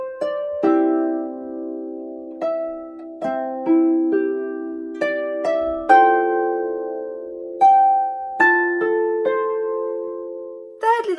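Pilgrim harp playing the opening two sections of Raglan Road with both hands, a slow melody of plucked notes over ringing chords, with steady sustained resonance, close and clear with no voices.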